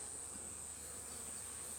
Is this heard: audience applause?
no